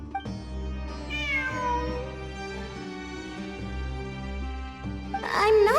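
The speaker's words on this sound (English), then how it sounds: "I'm not hearing things. It really is a cat." A cat meows repeatedly in the video game Genshin Impact during a Sumeru ruins exploration event cutscene. The meows are clear and rise above a steady, loud layer of musical score, and a sharper cry comes near the end.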